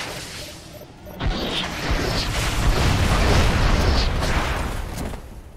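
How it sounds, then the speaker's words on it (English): A Halo 3 gameplay explosion erupts about a second in, a loud sustained boom and rumble that swells and slowly fades over several seconds, with no talk over it. "Did the explosion not kill you?"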